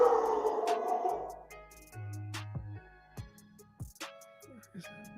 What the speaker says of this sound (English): Listen to that dog.